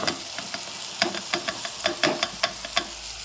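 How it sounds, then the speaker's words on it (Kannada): Boiled potatoes are stirred and fried with tomato and onion in a pan, with a steady sizzle under repeated sharp scrapes of a spatula at a brisk, uneven rhythm, close and fairly loud. "ಈಗ ನೋಡ್ರಿ ನಾನು ಆಲೂಗಡ್ಡೆ ಹಾಕಿ ತಿರುವಿನ್ರಿ"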